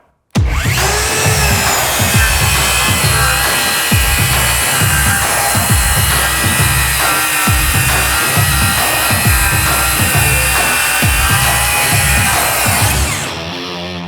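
A DeWalt battery-powered tool cuts into wood close by, starting abruptly and running hard with a steady high whine and rhythmic chopping pulses, then winding down at the end.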